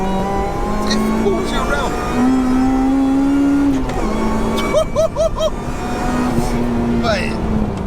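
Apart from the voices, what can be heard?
supercharged Honda DC5 Integra Type R accelerating in second gear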